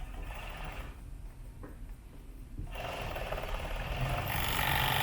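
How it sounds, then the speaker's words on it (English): A serger overlock machine stitching a fabric mask, its mechanical whirring and rapid needle chatter pausing briefly before running again and building toward a louder, faster hum, with no speech. "Now, when I serge this, like I said, I'm going to start from the corner"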